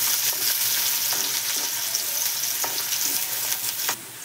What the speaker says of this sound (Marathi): आता मी कांदा घालते त्याच्यामध्ये। तो चांगला परतून घ्यायचा आता पूर्ण लाल होईपर्यंत।